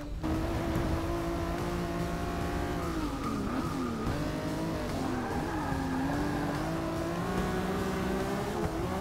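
Race car engine in Forza Motorsport 6 racing game, loud and continuous, with revving pitch rising and falling through gear changes and brief tire squeal in corners, no talking.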